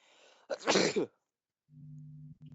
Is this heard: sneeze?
yes